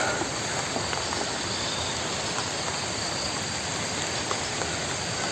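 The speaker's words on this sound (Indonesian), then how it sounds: "Udah mau maghrib baru hujan." Steady, dense hiss of rain falling at dusk over a garden, loud and continuous throughout with no voices, only small crackles in the wash.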